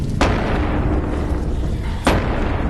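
Two sharp gunshots ring out in the VR game Animal Company, nearly two seconds apart, each a sudden crack over a steady, noisy background.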